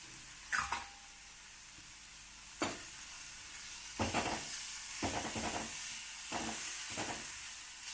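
Garlic paste and chilli paste sizzle and hiss in a hot pan while red amaranth palya is cooked, a steady frying crackle broken by a few sharp bursts and stirring clatters, with no talking.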